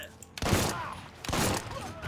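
Two heavy bursts of gunfire in the Mafia 3 video game crack loudly and near, each a dense volley lasting about a second, with a short gap between them and a faint background before.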